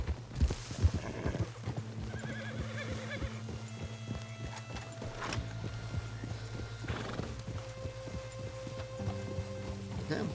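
Steady hooves clip-clop at a walking rhythm in the video game Red Dead Redemption II, with a horse whinnying early on over a continuous musical backdrop.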